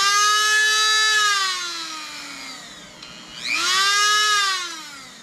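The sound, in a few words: Craftsman 110 volt Dremel rotary tool running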